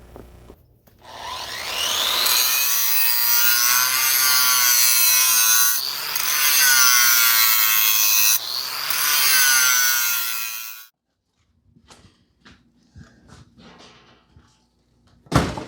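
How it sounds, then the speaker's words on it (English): A power grinder works relief cuts into a large fabricated steel counterweight, a loud, steady abrasive whine with ringing overtones that runs for about ten seconds with two brief dips, then cuts off into quiet shop clatter. "let's grind all the relief on everywhere we have to go"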